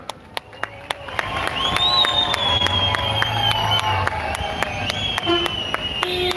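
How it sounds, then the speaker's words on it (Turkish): Crowd at a union rally, with sharp isolated claps and a broad, sustained din of applause and cheering that swells early and holds steady at a fair distance. "bu güzel görüntüden dolayı birbirimize alkışlayalım"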